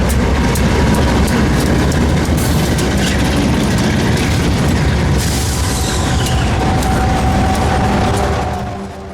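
A long freight train on the Pickens Railway rumbles past nearby for several seconds, with heavy continuous clatter and occasional clanks before the noise begins to fade.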